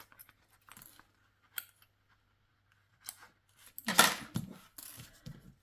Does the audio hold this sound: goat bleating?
no